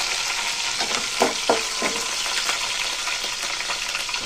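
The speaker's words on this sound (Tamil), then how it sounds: "இது கடுகு நல்லா பொரிஞ்சிடுது. இந்த டைமில் பூண்டு, கருவேப்பிலையை சேர்த்துட்டேன்." Mustard and fenugreek seeds spluttering in hot oil with garlic and curry leaves added, for a prawn curry: a loud, close, continuous sizzle dotted with crackling pops.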